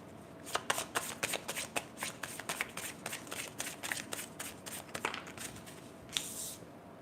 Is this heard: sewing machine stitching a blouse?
no